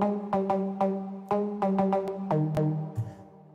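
Synth pluck patch recreated in Sylenth inside Ableton, playing a melodic run of crisp, short decaying plucked notes in quick rhythm, clean and alone, trailing off at the end.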